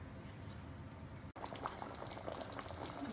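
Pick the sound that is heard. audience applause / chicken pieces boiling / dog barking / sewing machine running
chicken pieces boiling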